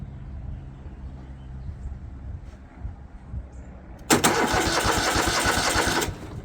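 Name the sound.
John Deere L130 lawn tractor engine cranking without choke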